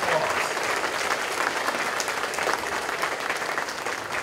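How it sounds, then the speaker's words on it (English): An audience at an annual meeting claps in a sustained round of applause, dense and even throughout, moderately close with no talk over it. "Let's give them a round of applause"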